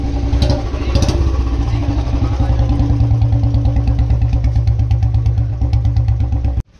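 A BS4 Royal Enfield Bullet 350 motorcycle idling with a free-flow L-bend exhaust pipe fitted, a loud close thumping rhythm of steady beats with a slight surge early on, cutting off abruptly at the end.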